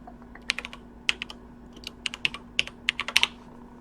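Quick bursts of keystrokes on a computer keyboard, irregular clicks clustering in short runs against a low steady hum, close and fairly clear with no talking.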